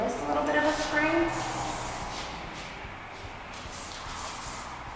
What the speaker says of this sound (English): I'm gonna go ahead and give this a little bit of a spray.